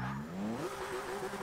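A Porsche 911 GT2-RS launches in the Forza 6 racing game, its engine note rising quickly in pitch as it revs hard for a brief moment.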